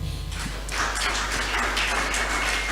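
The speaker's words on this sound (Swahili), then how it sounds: "Hebu nisaidieni tupigie Bwana makofi kwa sababu ya Mama Timo" Congregation clapping hands together in praise during a church thanksgiving service, a dense burst of applause rising after a brief lull and holding steady and loud through the end, with a low hum underneath.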